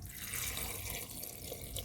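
Water pours steadily into a cooking pot close by, about half a glass over turmeric powder, a continuous splashing rush with no voices.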